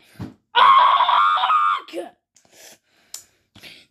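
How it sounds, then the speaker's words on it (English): A person lets out a loud, sustained scream that breaks off into a groan and scattered breathy gasps; no other sound accompanies it. "Sorry for screaming."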